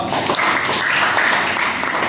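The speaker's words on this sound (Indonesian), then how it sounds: "ini sama ada tambahan tepuk tangan buat Niko" Applause for Niko at a school teaching session, a dense continuous patter of clapping filling the room at moderate level without a break.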